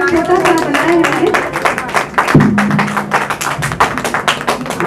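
Dense audience clapping at a poetry gathering and award ceremony in the UP Press Club, continuous and fairly loud, with a voice speaking over the applause.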